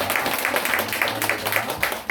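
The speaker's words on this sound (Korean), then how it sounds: "다시 한번 환영의 박수를 받습니다." A church congregation claps in welcome during a Sunday worship service. The applause is brief and fairly close, with irregular hand claps and some voices mixed in.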